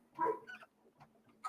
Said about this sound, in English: So my dog barked